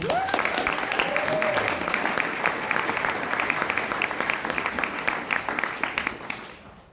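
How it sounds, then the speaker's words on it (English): A packed audience at the Boston Timmy Awards gives a sustained round of applause for keynote speaker Abby, a dense steady wash of many clapping hands with a brief voice early on, fading out at the end. "let's give a round of applause for Abby."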